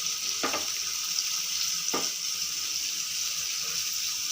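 Bombay duck (bombil) fish frying in plenty of hot oil over a gas flame, a steady bright sizzle with two brief louder crackles or stirs, and no talking.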